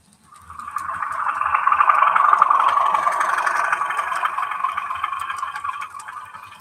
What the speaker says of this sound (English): The Class 37 is affectionately known as the tractor because it makes very much a tractor type sound.